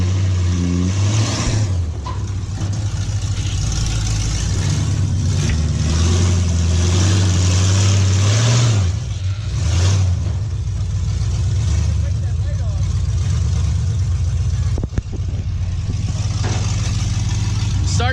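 A monster truck engine runs loud and close, steady with brief rises in revs. Someone talks over the engine.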